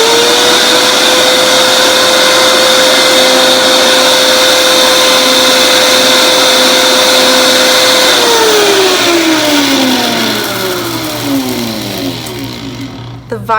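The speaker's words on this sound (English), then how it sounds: "The Vitamix is really handy for that, for grinding spices." A Vitamix blender grinds spices at full power with a loud steady motor whine, then the pitch sweeps downward as it spins down over the last few seconds.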